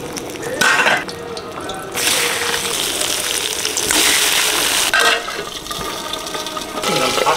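Chilli fritters fry slowly in oil in a small kadai, giving a steady, close sizzling hiss that swells and eases in several surges, with no talk.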